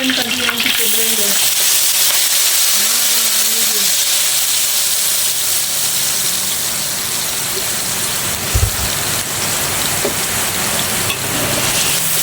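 Blended chili paste hits a hot pan with sardines and lemongrass, a loud steady sizzle and hiss that carries through, with a brief low clunk of stirring near the end.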